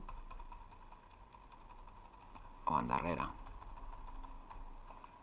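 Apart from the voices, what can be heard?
arrow keys pressed on a computer keyboard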